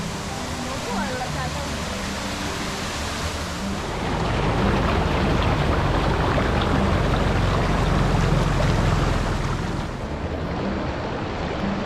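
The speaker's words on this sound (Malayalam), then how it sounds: "പടികളിറങ്ങി താഴെ വന്നാൽ പാറക്കെട്ടുകളെ തഴുകിയൊഴുകുന്ന ഒരു അരുവിയും കാണാം" A stream flows over rocks at Anangan Mala eco-tourism site in Ottappalam, Palakkad, a dense, continuous rushing wash that swells louder midway, with a voice talking over it.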